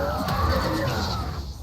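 A horse in the Elder Scrolls IV: Oblivion video game whinnies in a short, shrill, wavering neigh that falls in pitch, fairly close and clear over faint game ambience.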